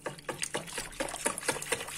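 Water is poured into a food mixture and stirred, giving close, soft liquid splashes and sloshing strokes in a quick, uneven rhythm.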